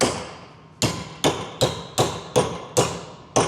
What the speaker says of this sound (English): We're gonna make our 90 now with a hammer.